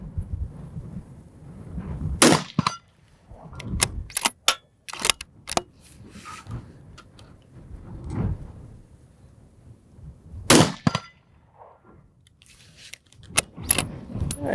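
Several sharp, loud rifle gunshots, spaced irregularly, fired while testing a Boyds gunstock from shooting bags, each a sudden crack. Between shots come handling clicks and quiet low murmurs.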